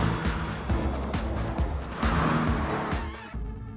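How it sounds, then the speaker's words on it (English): A Toyota GT86 with a 2-litre flat four-cylinder boxer engine drives hard, its engine note rising and dropping through repeated surges with bursts of tire noise, loud and close, ending abruptly. "under the bonnet we've got a 2-litre 4-cylinder boxer engine"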